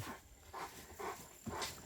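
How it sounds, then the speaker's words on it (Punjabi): A dog pants and snuffles close by in short rhythmic bursts, quiet and breathy, with no voices, outdoors near farm fields. "ਉਹ ਦੂਜਾ ਕੁੱਤਾ ਆ ਗਿਆ"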